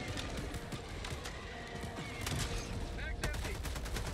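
Rapid, dense bursts of gunfire ring out during a fight against bugs in Helldivers 2. The automatic fire is close and sustained, with impacts and crashes mixed in and occasional voices underneath.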